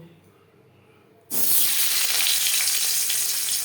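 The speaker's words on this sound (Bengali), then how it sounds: "সবার প্রথমে আমি আলু ভেজে নেব" Boiled potato pieces hit hot oil in a pan for an aloo chicken curry, bursting into a loud, steady sizzle after a quiet start and hissing continuously to the end.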